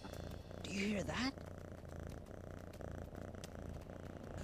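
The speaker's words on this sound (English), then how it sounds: "They're purring, Zabu." Two cats' soft, low purring hums steadily under a brief burst of speech, continuing quietly after the voice stops.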